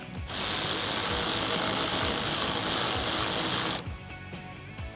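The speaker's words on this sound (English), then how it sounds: "we're also going to use the factory hardware and secure it down with a 10mm socket" A socket tool tightens a factory fender bolt with a 10mm socket on a 2016-2021 Toyota Tacoma, giving a loud, steady mechanical whir that runs for about three and a half seconds and then cuts off. It is heard alone, with no talk.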